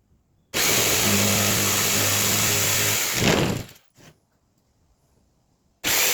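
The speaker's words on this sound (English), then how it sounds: "I'll cut off the end pieces" A power saw cuts the end pieces off a woodworking carpentry project, a loud steady buzzing run of about three seconds that ends in a rough burst, then a short blip, silence and the start of another cut.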